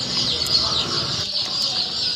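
Chickens and chicks at a poultry farm cluck and cheep in a busy, continuous chorus, with occasional wing flaps, fairly close and loud.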